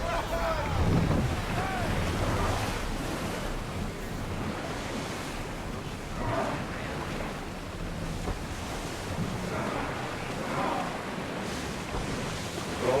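A sailing ship cutting across the sea in Assassin's Creed Odyssey, with steady loud wash of waves and wind rushing over the hull, occasional swells rising and falling, and faint voices under the water noise.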